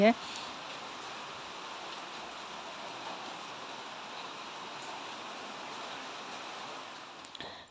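Steady rain hisses continuously at moderate level, a broad even wash of sound from start to finish.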